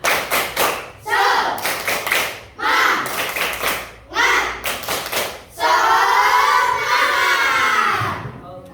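Schoolchildren in a classroom perform a rhythmic spirit clap, bursts of loud unison clapping and thumping alternating with their chanting, ending in a long, loud group shout.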